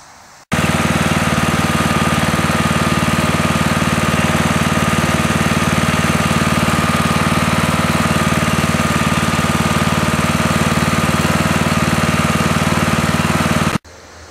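A rebuilt riding lawn mower engine idles steadily and loudly close by, a constant mechanical drone with strong low-pitched harmonics that runs unbroken for the whole stretch, with no voices.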